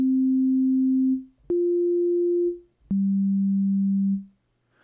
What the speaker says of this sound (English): sine wave, real clean.